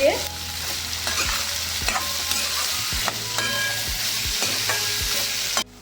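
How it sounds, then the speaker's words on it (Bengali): Sliced onion frying in oil with turmeric powder and salt sizzles steadily up close, while a spatula scrapes and taps against the pan every second or so. "পেঁয়াজটা আমার ভাজা হয়ে গেছে"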